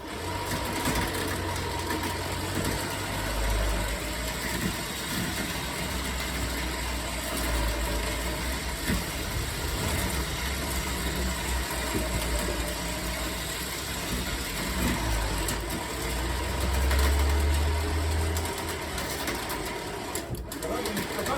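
A 1987 Peugeot 205 SRD barn-find diesel engine runs steadily in gear, a continuous low mechanical chug with a faint rattle throughout, close by, with people talking briefly over it.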